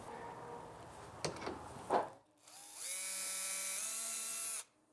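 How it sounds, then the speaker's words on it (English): A power drill with a self-centering bit bores a screw hole for a DIY flat calibration panel, giving a steady, close whine that rises slightly in pitch for about two seconds after a few brief knocks. "when you press a little bit harder, the drill bit comes out and puts a hole right in the middle of where"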